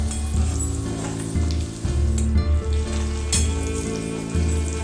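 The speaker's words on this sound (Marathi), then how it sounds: "असं थोडा वेळ हलवून घ्यायचं कांदा लाल होईपर्यंत" Onion and curry leaves fry in hot oil in a pan for red-masala toor dal varan, a steady close sizzle with occasional stirring scrapes and bumps throughout.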